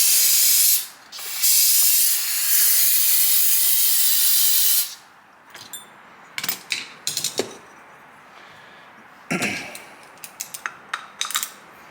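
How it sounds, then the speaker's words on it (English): Carb cleaner sprays from an aerosol can onto a part of a 2006 Honda CRF450R, a loud close hiss in two bursts followed by light metallic clinks and taps of the part being handled, with a brief spray near the end. "So maybe I'll just hit it with carb cleaner."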